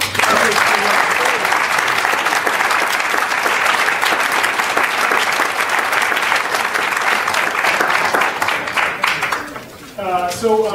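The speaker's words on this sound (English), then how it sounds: "But another round of applause for." A theatre audience applauds loudly and steadily for nearly eleven seconds, the dense clapping staying even before thinning near the end as a voice starts speaking.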